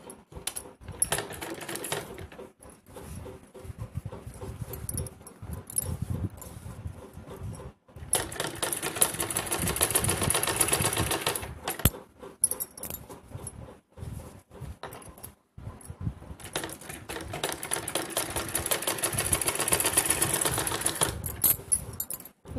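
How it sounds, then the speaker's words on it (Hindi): A sewing machine runs a straight seam along the turned-under inside edge of a kurti neckline, in two long steady bursts of rapid stitching separated by short pauses, close and clear with no talk. "और इसे पलट के अंदर की तरफ करके एक सीधी सिलाई लगाएंगे इसके ऊपर"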